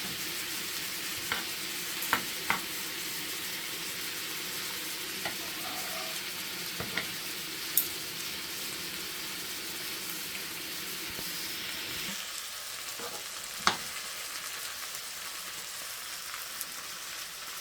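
Salmon frying in a pan gives a steady, even sizzle throughout, with a few soft clicks and taps of a utensil, heard close with no talk.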